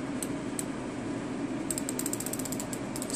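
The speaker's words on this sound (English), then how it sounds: "as I start to turn it counterclockwise, you can feel a slight ratcheting." A Stihl metal limiter cap being turned counterclockwise gives a soft, rapid ratcheting clicks in irregular bursts over steady background noise, faint and close, with no speech.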